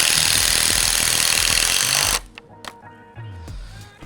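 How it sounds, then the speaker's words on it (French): A power screwdriver drives screws into a panel of a garden shed, a loud continuous whirring burst for about two seconds that then stops abruptly, leaving quieter tool handling noises. "on vient le visser à l'arrière."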